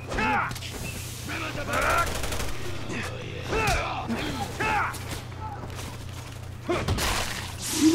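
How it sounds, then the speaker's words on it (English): Gunfire rattles through a Resident Evil 6 game scene, with repeated bursts of shots and mechanical clacks over several seconds, set against low game ambience and occasional gasps. "All I hear is gunshot."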